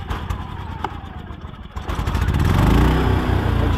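Champion 2800 watt inverter generator coughing into life after a pull on the starter rope, its small engine catching and rising to a steady, loud running chug nearby.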